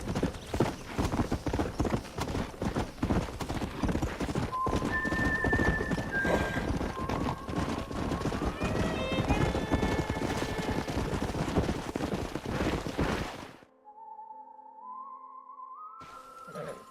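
Horses in Red Dead Redemption on Xbox 360 trot with steady, close clip-clop hoofbeats for about thirteen seconds, whinnying and neighing mixed in. The hooves then stop, leaving a quieter tonal game sound.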